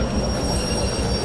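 Train wheels squeal in a steady metallic screech as a locomotive brakes in the Derail Valley railway simulator game, loud and close over a low rumbling clatter.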